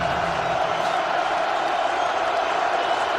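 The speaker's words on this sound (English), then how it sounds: "Oh, the crowd is into it here in Lincoln." A college football stadium crowd in Lincoln roars steadily on a cold, windy day with snow flurries during a Nebraska Cornhuskers vs Michigan State game. The broad, constant wash of noise sits under a commentator's voice.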